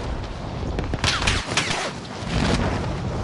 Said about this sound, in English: Some punk motherfucker shooting at me back here